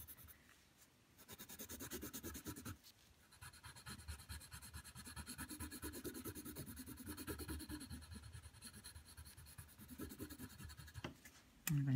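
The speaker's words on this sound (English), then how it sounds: "And then I'm going to color the other side." Soft, steady scratching of a coloring tool rubbing across a paper butterfly cutout, quiet and close, in continuous strokes with a couple of brief pauses.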